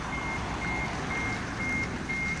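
A reversing alarm beeps steadily over the low rumble of an S700 truck backing up to move a wheel loader, close and continuous throughout.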